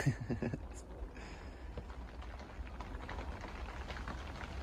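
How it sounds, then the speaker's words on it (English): Steady heavy rain hissing continuously, muffled as heard from inside a log and clay cabin, with a few soft knocks early on. "That rain's fairly heavy, like."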